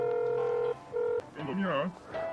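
Phone dialing in the video game Dave the Diver: a few short electronic keypad tones in sequence, then a brief warbling ring-like burst and another tone, with a voice over part of it.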